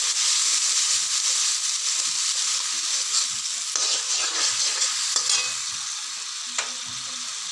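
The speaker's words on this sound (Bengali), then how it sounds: "পেঁয়াজ ভাজা হয়ে গেছে" Onions frying in a pan for a rohu fish and potato curry give a steady close sizzle and hiss, broken by occasional scraping stirs of a spatula, with no voices.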